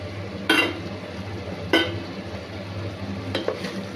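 Mutton keema with chopped ridge gourd stirred in a pan, three distinct scraping strokes of a spoon over a low sizzling background, close and fairly loud, no talking.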